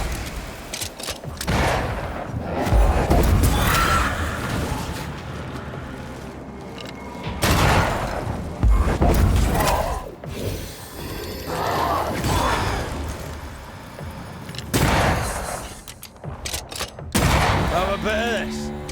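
Gunfire and rattling mechanical clatter in the game Banishers: Ghosts of New Eden, coming in several loud bursts of rapid shots and ratcheting noises separated by quieter stretches.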